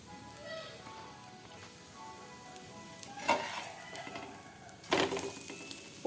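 A tomato dosa sizzles faintly on a hot pan after flipping, a soft steady hiss with two sharp scraping knocks from the spatula; a voice speaks quietly in the background.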